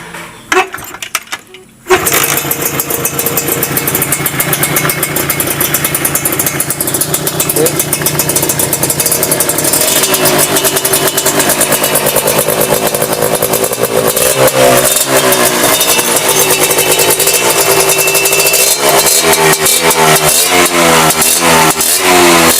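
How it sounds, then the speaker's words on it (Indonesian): A Suzuki Tornado two-stroke racing motorcycle engine starts after a brief quiet moment, then revs loudly and repeatedly with rising and falling buzzy blips up close, sustained throughout. "Suaranya biasa racing 2 tak ya, kontak tetap pakai orinya Tornado"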